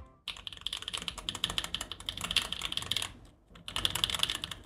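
Rapid, continuous clacking from typing on a bare Foxlab F80 SE mechanical keyboard PCB with no case, close and dry, with a brief pause before the keystrokes resume.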